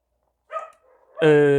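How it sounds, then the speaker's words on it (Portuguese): A neighbour's dogs bark, a short muffled yelp followed by a louder, sharper bark that rings out abruptly after a moment of silence. "E os dogs do vizinho tudo latindo e concordando."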